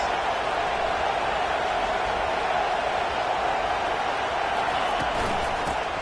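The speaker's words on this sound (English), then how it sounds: "this crowd is turning it up a notch" A college football stadium crowd roars continuously during a second-down play, a dense, steady wash of cheering with no breaks.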